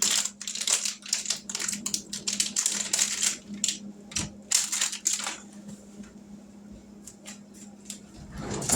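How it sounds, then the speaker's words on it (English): Food being shredded by hand for a Mexican casserole, a run of crisp tearing and crunching bursts in uneven rhythm, close and fairly loud, thinning out toward the end. "I'm going to shred it all up because I'm going to put some of it in the meat mixture"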